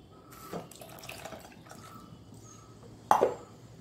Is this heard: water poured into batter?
yes